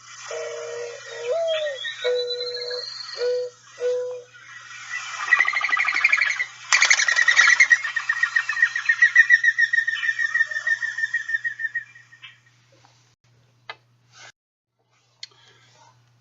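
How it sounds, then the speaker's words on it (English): A mourning dove gives a soft, close series of low hollow coos. Its wings then whistle with a rapid fluttering twitter for several seconds before it fades into near silence. "In addition to the cooing, you can also identify the mourning dove by the whistling of its wings."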